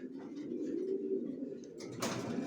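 Racer pigeons coo in a steady, continuous low murmur close by, with a brief rustle or flutter near the end and no voices.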